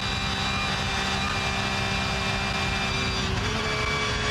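A race car engine at full throttle through the flat Kesselchen and Klostertal sections of the Nürburgring during 24-hour race qualifying holds a loud, steady, high-revving drone throughout, with a slight shift in pitch near the end.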